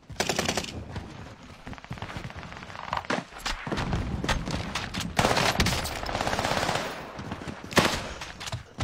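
Dense automatic gunfire and overlapping shots in the Call of Duty Warzone video game, loud and sustained bursts with a few heavier thumps, filling the whole stretch without a break.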